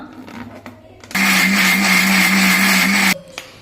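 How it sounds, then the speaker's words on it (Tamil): A mixer grinder whirs loudly for about two seconds, a steady high-pitched motor roar that starts abruptly and cuts off, with quieter clatter before and after. "இப்போ நம்ம மிக்ஸி ஜாரில் போட்டு இப்போ நம்ம அரைச்சிக்கலாம்"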